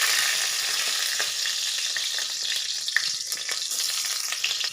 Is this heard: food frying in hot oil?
yes